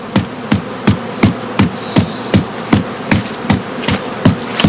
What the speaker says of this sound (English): The skep must usually be bounced 30 or more times in order to empty it.